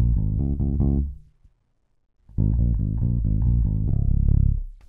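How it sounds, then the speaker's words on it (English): A passive bass guitar played clean through a Warm Audio WA273-EQ preamp with gain, EQ and added compression, with a short run of plucked notes, a pause, then a longer, louder phrase, heard close with no talking. "I used the gain and the EQ of the Warm Audio to shape the tone of the bass guitar"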